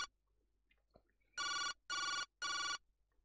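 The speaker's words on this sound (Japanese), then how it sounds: "呼び出し音が数回繰り返された後、今泉は電話に出た。" Mobile phone ringing tone in the DS detective game Jinguji Saburo, three loud identical electronic ring bursts in even rhythm after a near-silent start, alone with no talk.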